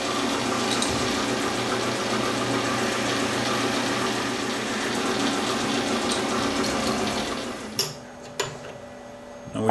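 A toolpost grinder mounted on a lathe takes a fine finishing pass on a metal workpiece, giving a loud, steady broadband hiss and whine that runs unbroken, then winds down near the end with a couple of sharp knocks.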